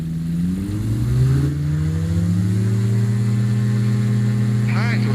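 A small training airplane's piston engine holds steady at full takeoff power during a circuit departure, a loud continuous drone with a rising pitch early on, while a voice talks over it.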